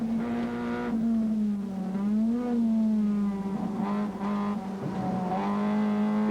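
A Honda CRX racing in a 1989 touring car championship in Scotland holds a loud, close, sustained engine drone whose pitch rises and dips slightly as the driver works the throttle.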